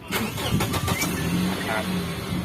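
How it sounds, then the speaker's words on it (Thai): A Toyota Ventury van starts its engine using a push start button, giving a short cranking catch that settles into a steady idle, with someone talking over it. "แต่ถ้าพี่สตาร์ทอย่าเบรกก่อนแล้วแตะเข้าไปอย่างงี้"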